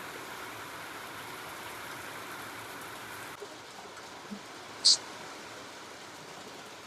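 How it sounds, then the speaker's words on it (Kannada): Heavy rain pours down outdoors as a steady, soft, even hiss that stays unbroken throughout, with one brief sharp click near the end and no voices. "ಜೋರು ಮಳೆ ಬಂತು."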